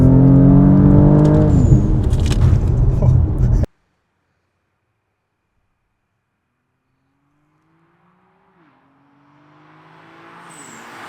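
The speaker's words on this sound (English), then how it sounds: "we'll be able to get a flyby here" A tuned 650+ whp Infiniti Q50 with VRX80B turbos, AMS fueling and TCM tuning makes a loud, close engine roar for about three seconds. The sound cuts abruptly to silence, then a fainter, more distant engine note rises again.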